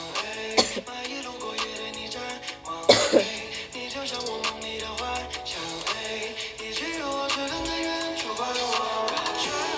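A young woman coughs a few times, with sharp bursts and throat clearing over a soft ongoing background, close to the microphone.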